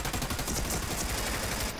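Rapid, dense video-game gunfire rattles continuously at close range, a loud burst of overlapping shots with no pauses.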